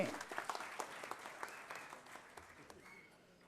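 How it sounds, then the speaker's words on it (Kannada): An audience at a stage event applauds with quick scattered clapping that starts fairly strong and gradually fades out, heard somewhat distant and faint. "ಚಂದ್ರು ಸರ್ ಅವ್ರಿಗೊಂದು ಜೋರದ ಚಪ್ಪಾಳೆ"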